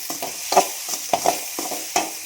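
Red chillies frying in a pan while being stirred, soft continuous sizzle with several sharp scraping stir strokes close by, no talk.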